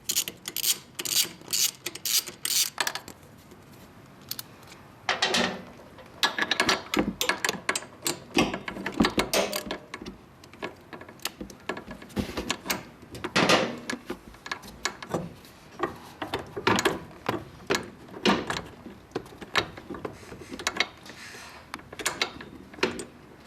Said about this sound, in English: The next thing you're going to use is a 12mm socket size to remove the manifold bolts here.